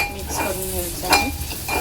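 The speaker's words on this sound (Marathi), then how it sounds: "कांदा आपला चांगला तेलावर परतून घ्यायचा आहे।" Onions sauté in oil in a pan while a spoon stirs them, giving a close, brief sizzle with scraping strokes.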